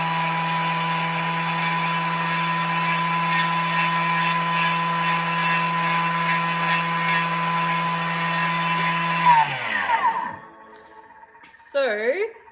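A kitchen blender mills sugar into icing sugar, a loud sustained motor whine at high speed for about nine seconds that winds down abruptly, followed by a brief second pulse.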